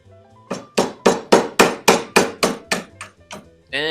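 Hammer blows drive a small chisel while finishing a garage garden platform: about eleven sharp, evenly paced metallic strikes close by, ending with a brief voice.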